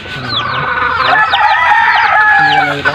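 Several pet chickens cluck loudly and close by, with rapid overlapping squawks and a crowing rooster rising among them across a few seconds.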